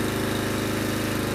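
A small engine idles steadily beside a woodpile where black locust is being cut and split, giving a close, continuous low throb with an even pulsing rhythm and no talking.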